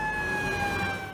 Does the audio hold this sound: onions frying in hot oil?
no